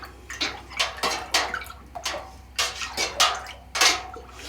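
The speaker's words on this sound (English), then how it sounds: "I'm just going to give that a really good stir to dissolve the" Chalk is stirred into a madder root dye vat of water with the roots held in a net. Repeated close sloshing swirls of liquid come in an uneven rhythm.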